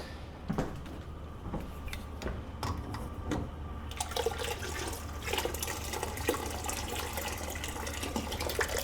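Hot water pours steadily into canning jars during a cucumber canning session, a continuous splashing, filling rush close by with a few sharper clinks and splashes early on, no voices.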